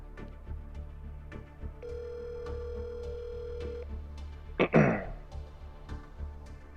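A single long outgoing-call ringback tone sounds over a phone line in a quiet room, a steady two-second beep, with faint background noise and a brief cough or vocal burst afterward.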